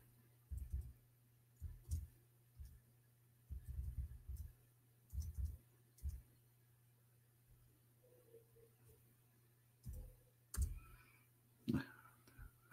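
Slow, sparse keystrokes on a keyboard, isolated clicks and short clusters spaced irregularly with pauses between, over a faint steady background hum.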